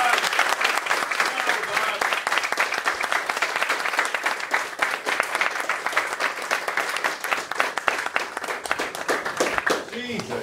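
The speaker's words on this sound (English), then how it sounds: "One more big round of applause, please." Sustained applause from a crowd at a Brazilian jiu-jitsu match, dense and even, continuing loudly for about ten seconds with voices mixed in.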